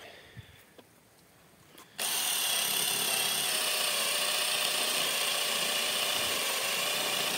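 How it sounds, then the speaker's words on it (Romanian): An Einhell TE-CD 18/40 18V cordless drill set to the second speed bores into wood with a wood drill bit. After a couple of quiet clicks it starts suddenly into a loud, steady whirring drone that lasts several seconds, with no talking. "O să o testez simplu cu burghiul ăsta de lemn. Pe treapta a doua."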